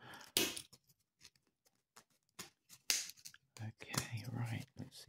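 Scissors cut open the wrapping around Pokémon cards, a series of brief crisp snips and rustles close by, with soft handling noise and a few quiet breathy sounds between cuts.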